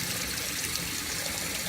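Water runs steadily from a tap while a makeup brush is rinsed under it, a continuous bright splashing hiss, close and even, with no talking.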